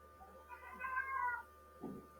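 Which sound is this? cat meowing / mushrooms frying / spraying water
cat meowing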